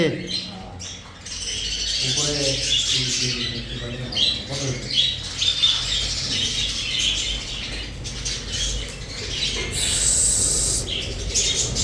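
Many small pet budgerigars and cockatiels chirping and squawking close by, with wings fluttering now and then and a person talking over them.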